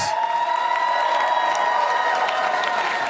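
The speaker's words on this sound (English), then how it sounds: "Give some round of applause" Audience at Gotham Comedy Club applauding and cheering after a stand-up show, a sustained thick roar of clapping with whoops and a held tone running beneath.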